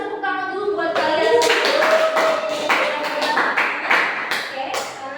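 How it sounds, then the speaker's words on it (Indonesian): A classroom of students claps together in a short burst of sharp, close hand claps, starting just after a brief voice and running on for several seconds. "Oke, kita kasih tepuk tangan dulu buat kalian."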